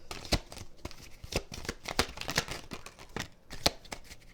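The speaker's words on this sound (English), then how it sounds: "Last shuffle." Playing cards being shuffled, rapid rustling riffles and sharp flicks in quick uneven bursts, close and fairly loud, with no talking.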